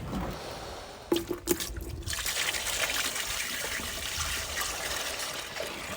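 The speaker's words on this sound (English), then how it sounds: "and just pour it in." Neat hypochlorite is poured from a container into a bucket: two knocks at the start, then a steady, close trickling pour that runs to the end.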